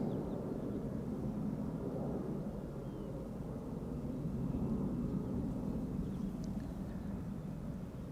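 A two-year-old Boeing 777 freighter lands on the Polderbaan runway 18R at Amsterdam Schiphol in crosswind, a steady low jet roar rumbling from a distance without letup.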